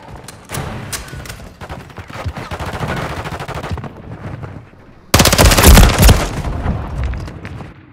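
Rapid automatic gunfire in Call of Duty: Modern Warfare III, with dense bursts and booming shots that swell into a loud close volley midway, then continue as heavy fire.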